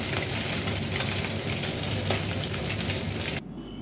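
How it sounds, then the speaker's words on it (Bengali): Morola fish frying in a wok, a dense, continuous hiss of hot oil heard up close, cutting off abruptly near the end. "এরকমভাবে কড়াতে ভালো করে মাছগুলো ভেজে নিতে হবে।"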